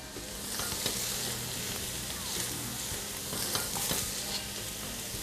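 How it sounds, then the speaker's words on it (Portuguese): Shredded boiled chicken breast, cooked in salted water, fries lightly in a pan with a steady, dense sizzle and occasional stirring scrapes throughout, with no voices. "Deixar aqui dar uma leve fritadinha aqui no frango"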